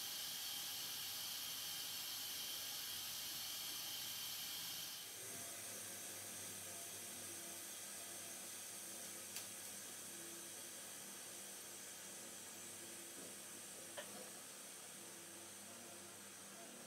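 Cookeo multicooker venting steam at the end of cooking ratatouille, a steady loud hiss for about five seconds that then drops to a softer lingering hiss with faint clicks.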